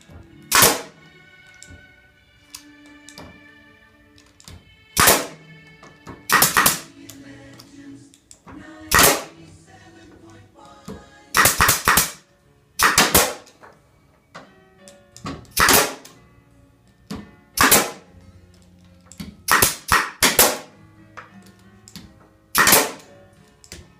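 Nail guns firing into wooden frames held on an assembly jig, loud sharp pneumatic shots in irregular bursts, often doubled or in quick clusters, with quieter handling noise between.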